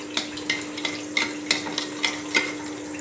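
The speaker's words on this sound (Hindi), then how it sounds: "ठीक है, और उसको चम्मच के साथ थोड़ा सा मेल्ट कर लेंगे अच्छी तरह।" A spoon stirs ice cubes through mint water, giving a series of light, bright clinks and taps at an uneven rhythm over a steady low hum, with no voices.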